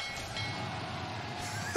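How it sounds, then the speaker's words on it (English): Train stun effect from the game Dota Underlords: a steady rumbling rail rush with clattering wheels and a brief horn-like whistle, holding at moderate loudness throughout with a sharp spike at the very end. "Let's stun ourselves with the train."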